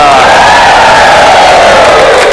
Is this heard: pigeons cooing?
no